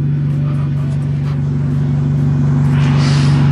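A Toyota Camry with stainless piping and twin Earthwind mufflers idles with a deep, steady exhaust rumble up close, holding loud and even throughout with a slight rise near the end.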